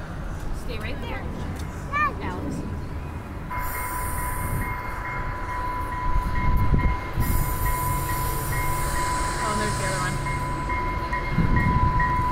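A train rolls past close by with a steady heavy rumble and high wheel squeal, while people talk over the noise.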